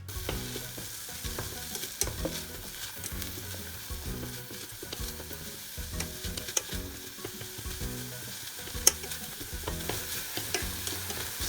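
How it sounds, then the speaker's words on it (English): Bonito flakes spread and stirred in a pan for Japanese tsukudani, giving steady close scraping and rustling strokes with a light sizzle underneath, repeating evenly throughout with no talking. "I'm going to try to spread out the bonito flakes"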